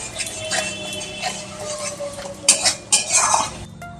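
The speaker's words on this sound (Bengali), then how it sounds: "পোস্ত আর চালমগজ বাটা দেওয়ার পরেও কিন্তু বেশ খানিকক্ষণ কষাতে হবে, ভালো করে কষাতে হবে" A spoon scrapes and clinks against a pan as spice paste with poppy and melon seed paste is stir-fried for a Bengali pointed gourd and prawn dish, with irregular metallic taps growing louder toward the end.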